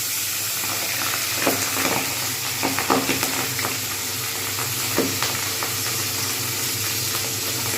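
Pabda fish frying in hot oil, Bengali style, gives a loud, steady close sizzle with a few soft clinks and pops on top.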